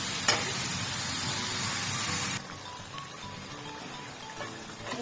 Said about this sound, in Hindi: हाथ के चुंगल में सूखा धनिया डाल दिया पिसा हुआ। अच्छे से हम करेंगे बुनाई।